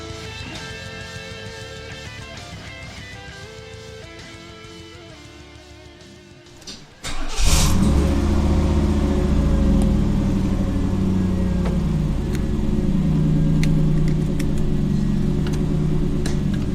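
The engine of a 1991 Pontiac Trans Am with a new torque converter idles quietly for a few seconds, then roars into a loud, deep rumble as it accelerates during a test drive and keeps droning heavily.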